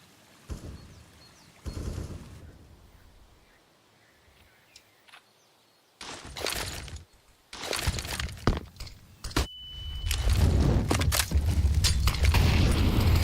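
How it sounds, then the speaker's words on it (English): A grenade detonates during a professional Counter-Strike match in the ESL Pro League. Loud booming bursts land early on, then dense gunfire and heavy blasts build into a sustained roar. "One more nade goes deep, but doesn't do a whole lot"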